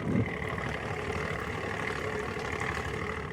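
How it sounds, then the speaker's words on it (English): The outboard motor of a 1999 Landau pontoon boat idles steadily, a continuous low engine drone with a faint even rumble, close by and alone. "Here the motor is running."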